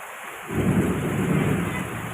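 Heavy rain pours down steadily outdoors with a deep rumble of thunder, a dense, loud roar that swells in after a quiet first half second and continues unbroken.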